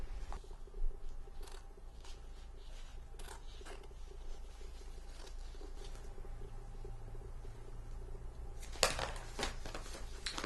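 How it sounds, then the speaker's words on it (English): Scissors cutting fabric backing away from a reverse appliqué heart, a series of sparse, crisp snips at close range over a quiet background, ending with a louder burst of cutting. "And now you're going to flip it over and cut the backing off."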